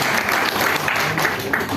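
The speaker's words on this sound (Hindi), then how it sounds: "विशाल भाई के लिए जोरदार तालियां हो जाए पहले तो" An audience bursts into steady, dense clapping that fills the whole stretch at close range, loud and continuous, with a few faint voices mixed in.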